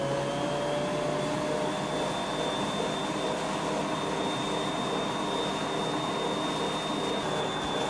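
A Bosch stand mixer kneading donut dough at its lowest speed setting, giving off a constant loud motor whir with no change across the whole stretch, close and without talk.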